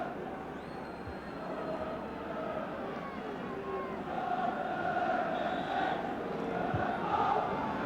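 A football stadium crowd at a Sunderland versus Ipswich Town match roars and jeers in an angry, continuous rumble, with whistles and shouts rising toward the end as a commentator speaks over it.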